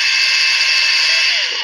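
A steady, loud electric drill whine runs continuously, used in a comedic mock-surgery scene, with no pauses across the short stretch.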